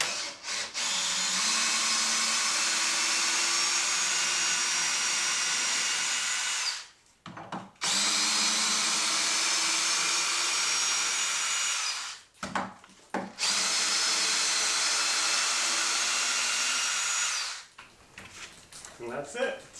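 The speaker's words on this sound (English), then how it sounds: "So we're going to take the screws out." A power drill runs in three long sustained bursts, backing screws out of a doubled wooden floor joist during repairs to rot and insect damage, with short pauses between runs and loud, close whine throughout.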